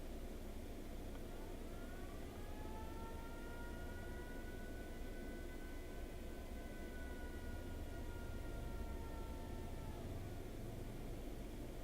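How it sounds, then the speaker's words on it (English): A siren wails in a video game, its tone steadily rising and falling over a dense, hissing background for about ten seconds before it cuts out. "Turn the siren off."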